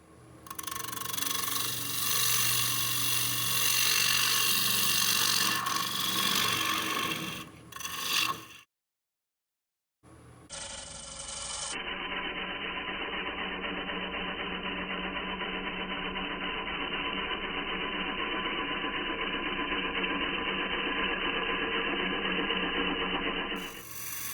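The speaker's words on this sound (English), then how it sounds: "I'm going to be using my bowl gouge to hollow it out" Bowl gouge cutting into a spinning black cherry bowl blank on a wood lathe, a steady loud rasping hiss that breaks off briefly in the middle and then resumes as a continuous, even cutting drone.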